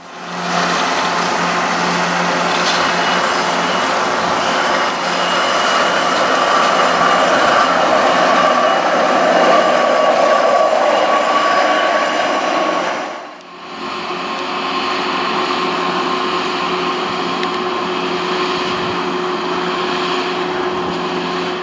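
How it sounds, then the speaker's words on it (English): A hi-rail inspection truck rolls southbound along railroad tracks in Puget Sound country, a loud, steady rumbling roar held for many seconds, briefly dipping before resuming at similar strength, with no voices. "we would see a high rail truck coming by to inspect the tracks"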